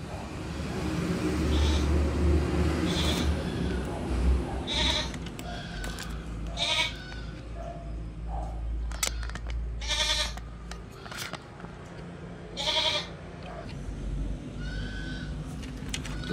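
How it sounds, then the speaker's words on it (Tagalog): Goats bleat repeatedly in short, nasal calls, some near and some farther off, over a steady background rumble of engine noise. "May mga naririnig kayong mga kambing dito."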